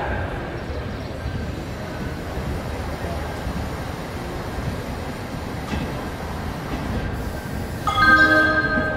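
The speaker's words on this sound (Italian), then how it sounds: "Treno in arrivo al binario 5" A train rumbles steadily along the tracks arriving at platform 5 of an Italian railway station, with a rising screech of brakes near the end; low hum throughout, no clear talk.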